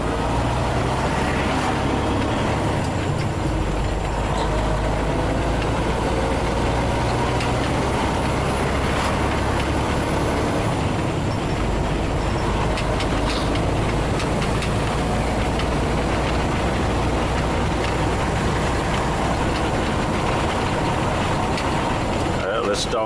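An old vehicle's engine rumbles loudly and steadily through a gear change, with a brief dip in tone partway through and some talk over it.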